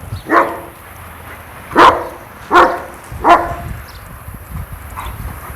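A German Shepherd barks four times in a sharp, spaced-out sequence, close and loud over a low background rumble.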